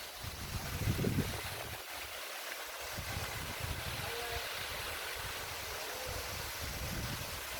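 Gently flowing waterfall at Saklıkent in Yığılca, a steady, soft broadband rush heard from a short distance, with a brief low rumble of wind or handling near the start.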